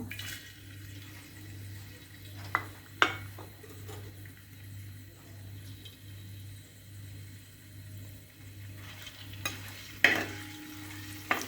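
Chopped ginger fries in sesame oil in a pan, giving a faint, steady bubbling sizzle with occasional sharp clinks and scrapes of stirring, heard close up with no talking.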